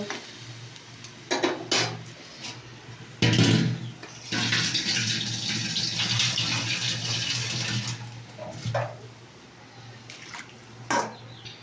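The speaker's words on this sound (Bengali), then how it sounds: "এবারে জল দিয়ে দিলাম" Water is poured into a cooking pot, a splashing gush lasting a few seconds amid scattered clinks and knocks of utensils against metal.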